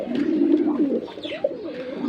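Pigeons coo in low, throaty bursts close by while a male bird is held in hand at a pigeon farm, the soft calls repeating over a couple of seconds.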